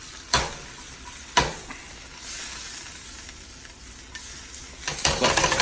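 Steak with peppers and onions frying in a hot pan, a steady close sizzle broken by a few sharp stirring scrapes and clanks, louder crackling building at the end.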